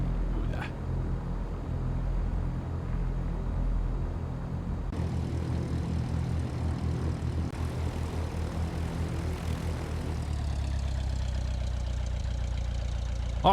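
A simulated Beechcraft Sundowner C23 piston engine idles on the ramp in a flight simulator, a loud, steady propeller drone that holds throughout with slight shifts in tone, and no voices.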